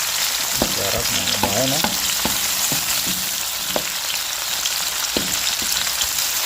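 Chopped tomatoes fry in a hot pan with a steady crackling sizzle, broken by a few sharp utensil clicks, while a voice speaks briefly over the cooking.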